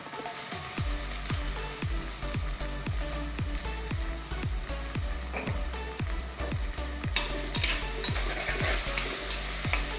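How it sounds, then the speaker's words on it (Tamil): Tomato and salt sautéing in a pan over onions: a steady, close sizzle of frying with repeated stirring scrapes in a regular rhythm, no voices. "இதில் ஒரு தக்காளி அளவுக்கு போட்டுட்டு கொஞ்சம் உப்பு போட்டு நல்லா வதக்கிக்கலாம்."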